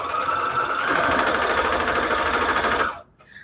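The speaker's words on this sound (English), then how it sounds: "I'm glad my sewing machine is good" A recently serviced sewing machine runs in a steady, fast, close mechanical whir for about three seconds, then stops abruptly, leaving near quiet.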